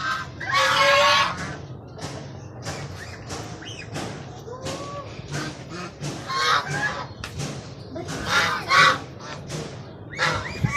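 A noisy flock of geese honking loudly and repeatedly, with ducks quacking and chickens clucking mixed in, close by and continuous.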